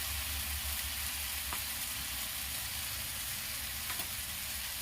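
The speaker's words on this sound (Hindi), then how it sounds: "इसे लगभग 2-3 मिनट भून लूंगी" Ginger garlic paste fries with cooked-down tomatoes in a pan for a lentil tadka, a constant close sizzle with a low crackling bed and a couple of faint stirring scrapes, no voices.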